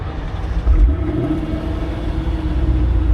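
A car engine idles with a low, steady rumble, close and continuous, with no voices.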